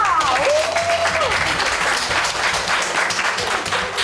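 Studio onlookers applaud warmly during a comedy cooking segment about pork hind leg, sustained clapping with a brief sung or whooped tone near the start and scattered voices underneath.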